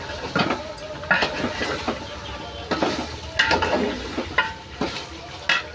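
Beef being sautéed and stirred in a pan for a village-style beef and taro dish, with a quiet sizzle under repeated scraping and stirring strokes that come in irregular bursts.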